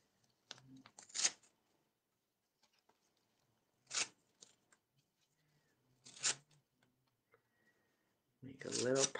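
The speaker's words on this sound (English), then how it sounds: "Every time you feel the rip or hear it," Paper torn by hand in several separate bursts, each a quick crisp rip, with quiet pauses between and a longer, louder tear at the end.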